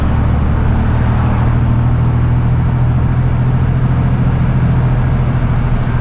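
Steady, loud engine drone and road rumble from inside a flatbed straight truck on a hotshot run during a breakdown, held at constant level as it makes a U-turn, with no voices.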